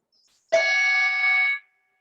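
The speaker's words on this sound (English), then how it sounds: "I will chime the singing bowl once." A singing bowl is struck once to close a Yoga Nidra session, giving a clear, bright, sustained ring that holds steadily for about a second before cutting away, with silence on either side.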